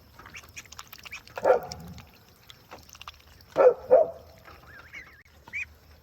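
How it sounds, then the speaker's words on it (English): A farm guardian dog barks twice in the distance, a lone woof followed later by a quick double bark, amid faint outdoor sounds and a brief high squeak. "That's our guard dog."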